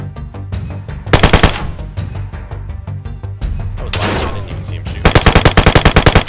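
Loud gunfire in the DayZ video game, with rapid automatic bursts rattling out close by, interspersed with single shots and short pauses.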